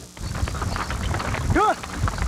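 A farm horse in harness clip-clops in a war-weary countryside, steady hoof beats heard under ongoing talk along with a brief whinny-like tone.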